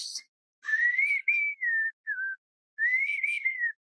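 A person whistles a melody alone and close by, in several clear, gliding phrases separated by short pauses.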